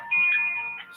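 Telephone ringtone sounding as a call is placed back, a single steady electronic tone lasting under a second, moderately faint with a light background hum.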